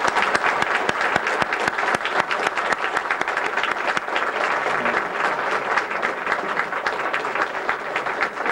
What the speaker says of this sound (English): let's give these people a nice round of applause